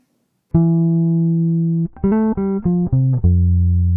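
A smooth bass line plays alone: one long sustained low note, then a few shorter connected notes gliding into a final held tone.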